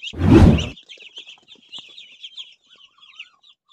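Muscovy duck chicks peep in a rapid, high-pitched chorus of short chirps, following a loud thump at the start and continuing faintly and steadily, no voices.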